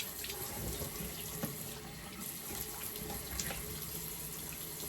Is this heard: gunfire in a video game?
no